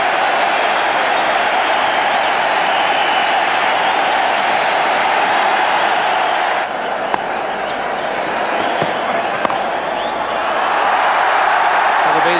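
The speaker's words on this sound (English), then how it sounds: "this huge National Stadium crowd are certainly saluting him" Huge crowd at the National Stadium cheering and applauding during a 1996 Cricket World Cup match between South Africa and Pakistan, a loud sustained roar with surging claps and whoops.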